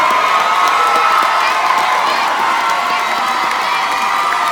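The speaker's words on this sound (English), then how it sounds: "Y'all give them a round of applause." Crowd at a Mumford High School graduation ceremony applauds and cheers the graduates, a loud, dense, continuous wall of clapping, shouts and whoops filling the hall throughout.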